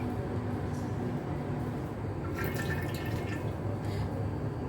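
Two cups of cooking oil poured into a pot for desi chicken sureed, a continuous close liquid glug and trickle held at steady level, with no talking.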